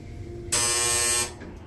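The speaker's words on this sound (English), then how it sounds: "What a weird buzzer" A single harsh electric buzzer in an old Dover hydraulic elevator sounds loudly for under a second, then cuts off, leaving a low background hum.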